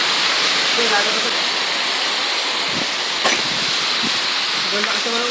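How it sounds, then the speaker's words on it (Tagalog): Heavy typhoon rain pours down steadily outside a shop, a loud continuous wash of noise with a few brief knocks and faint voices underneath. "Sobrang lakas naman ang ulan."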